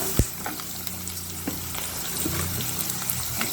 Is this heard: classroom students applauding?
no